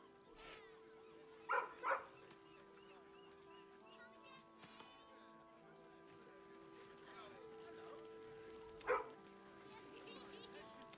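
A dog in Baldur's Gate 3 gives a few faint, short barks, one pair close together early and another single bark later, over a quiet ambient game background with speech.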